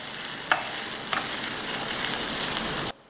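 Chopped onions sizzle steadily in a hot kadai while being stirred, with a couple of brief scraping clinks from the spoon against the metal; the frying continues loud and close, then cuts off abruptly near the end.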